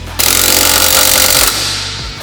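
An impact wrench or air gun whirs loudly and steadily while bolting up the suspension knuckle on a Ford AU Falcon, running about a second and a half before winding down.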